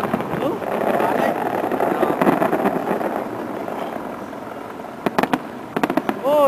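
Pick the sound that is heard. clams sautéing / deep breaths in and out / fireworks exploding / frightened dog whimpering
fireworks exploding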